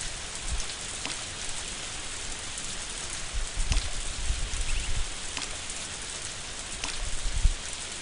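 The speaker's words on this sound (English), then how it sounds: "If I want the rain to stop" Steady rain falls in the video game Harvest Moon, a continuous dense hiss of drops with faint low thumps, even and moderately loud with no voices.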